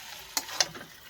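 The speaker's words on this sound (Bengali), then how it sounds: "এখন আমি কেমন রান্না করছি দেখেছো?" Banana flower curry cooking in a pan: two short sharp sizzle or stirring bursts over a faint, steady background, close and fairly quiet, with no voices.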